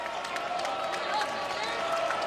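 Crowd at the Coliseum applauding during a Rhode Island at West Virginia college basketball game, a steady, dense wash of clapping and cheering held evenly for a couple of seconds.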